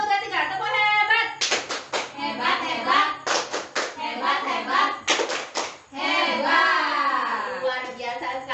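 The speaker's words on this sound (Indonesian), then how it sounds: "kita beri tepuk hebat" An audience of mothers at a training session performs a patterned cheer clap, bursts of rhythmic group handclaps alternating with voices calling out over it, near and lively.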